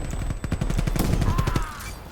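Rapid bursts of gunfire in Call of Duty: Black Ops Cold War, a fast-rattling shotgun or automatic weapon firing in quick succession, loud and close, continuing for about two seconds with no talking.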